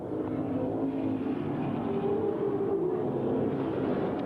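Grand Stock race cars circling an old-school circle track at Langley Speedway in 1994, a steady, continuous engine roar from several cars blending together at moderate distance without pause.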